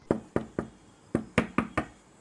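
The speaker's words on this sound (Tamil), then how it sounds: "திரும்பவும் தட்டலாம்." Knocking on a door, two quick sets of sharp raps: three knocks, a brief pause, then four more, close and crisp in a quiet room, with no voices.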